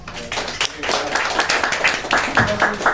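Audience applause thanking a teacher, a dense patter of clapping hands lasting about three seconds, with voices mixed in beneath it.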